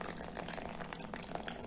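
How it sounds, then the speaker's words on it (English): Warm water pours into flour in a short, steady stream with a soft splashing trickle, close by and without any talking. "Add in warm water"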